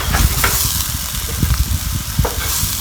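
Chopped sausage pieces sizzle in a pan for a home breakfast, a steady hissing fry broken by a few sharp stirring scrapes, close and without talk.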